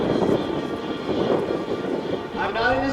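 A tail-dragger airplane's engine drones at the EAA airshow in Oshkosh, loud and close for about three seconds, with someone talking over it.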